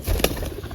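Pigeons in a coop with their young give a short burst of close wing flapping and soft bird noise, brief and fairly loud.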